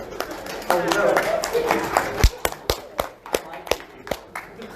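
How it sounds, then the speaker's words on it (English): An audience at a Transformers convention panel claps in sharp, separate, fairly close beats that stand out clearly after a stretch of talking, slowing and thinning toward the end. "Now you're clapping to make fun of me"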